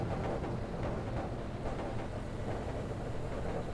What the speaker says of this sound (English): All you hear is backfire.